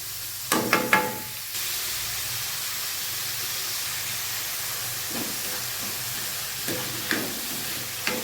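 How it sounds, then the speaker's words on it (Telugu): Onions frying in hot oil with a little salt, a steady soft sizzle and hiss running throughout, broken by a few brief stirring clatters near the start and again toward the end. "ఆయిల్ వేడిన తర్వాత ఆనియన్ వేసుకోండి ఆనియన్ తొందరగా ఫ్రై కావాలంటే కొంచెం సాల్ట్ వేసుకోండి"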